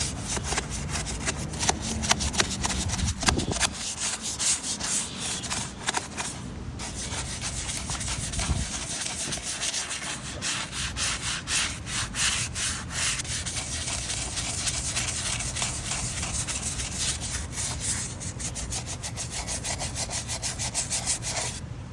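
A car wheel is brushed and scrubbed by hand during cleaning, giving a continuous rhythmic scratchy rubbing with quick repeated strokes, close and fairly loud, lasting throughout with a few brief pauses.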